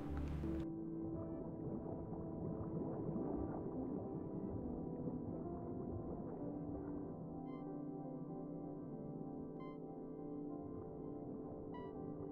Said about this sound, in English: I hear a whale somewhere.